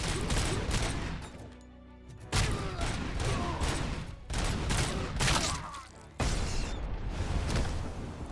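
Gunfire from the Robocop Rogue City video game, dense sustained bursts of shooting with short lulls, loud and continuous across the clip, with no talk over it.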